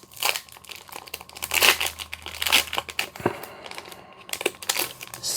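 Crinkly plastic packaging on a parcel of toys is torn and crumpled open in bursts of sharp crackling and rustling, close up, with short pauses between handfuls and no voices.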